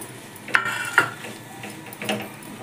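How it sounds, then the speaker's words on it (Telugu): Grated coconut roasts in ghee in a pan, a faint soft sizzle broken by a few sharp clinks of a spoon stirring against the metal, close and quiet. "కొంచెం నెయ్యి వేడెక్కిన తర్వాత దీంట్లో తురుముకున్న కొబ్బరి కొంచెం గోల్డెన్ బ్రౌన్ కలర్ వచ్చే వరకు వేపుకుందాము"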